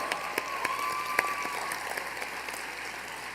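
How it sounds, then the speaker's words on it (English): Audience at an awards ceremony applauding, a moderate, even patter of many hands clapping at some distance, steady for a few seconds with occasional sharper individual claps standing out. "Give them a round of applause."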